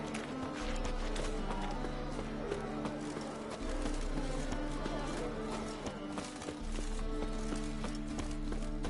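Horse hooves clip-clopping in The Witcher video game, a rapid rhythmic run of hoof beats over a deep rumbling game soundtrack, with voices mixed in.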